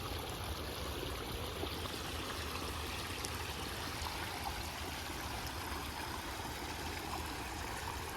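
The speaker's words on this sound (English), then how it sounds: "Here's the water coming in." Water pours steadily into a homemade backyard swim pond, a constant close trickling rush like a small stream that does not change from start to finish, with no voices.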